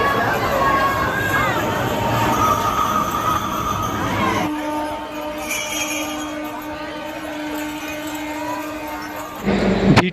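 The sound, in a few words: crowd of pilgrims at Sheoraphuli railway station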